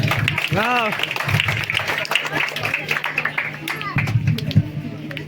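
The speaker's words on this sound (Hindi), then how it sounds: "एक बार जोरदार ताली इन तीनों के लिए।" Crowd applause at an Independence Day school event in Banpur, India, honouring three students: steady clapping from the audience, moderately loud, with a voice and music-like tones running over it.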